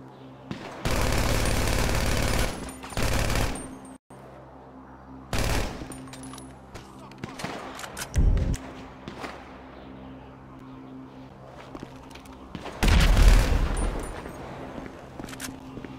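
Gunfire in Grand Theft Auto V rings out in loud, dense bursts of rapid shots at the start, with several shorter volleys later and a final heavy burst near the end.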